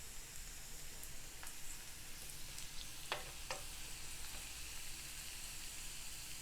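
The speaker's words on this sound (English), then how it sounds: "add in our Ajwain seed and cook this until the garlic turns really nicely golden brown" Garlic and ajwain seeds frying in a pan, giving a steady, moderately quiet sizzle with a few sharp pops and crackles scattered through it and no talking.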